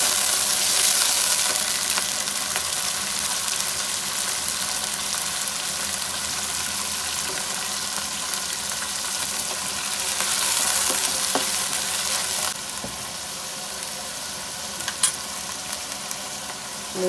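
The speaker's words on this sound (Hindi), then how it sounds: "दो से 3 मिनट तक अच्छी तरह कीमा को भून लेंगे।" Minced meat keema browning with fried onions in a pan, a continuous close hiss and sizzle that holds steady throughout and softens slightly near the end, with a few faint scraping stirs and no speech.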